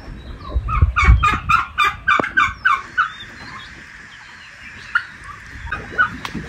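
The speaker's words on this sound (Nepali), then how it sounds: "टर्की कुखुरा" A turkey gobbles in a rapid rattling burst, followed by a few shorter gobbles and clucks, close and loud against a quiet background.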